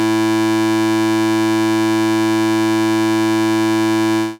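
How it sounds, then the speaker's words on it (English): A steady, buzzy wavetable-synthesized tone of concatenated sine, square and sawtooth waves holds at 330 Hz, bright and harmonically rich, sustained without change before cutting off abruptly. "we could concatenate the sine, the square, and the Sawtooth wavetables"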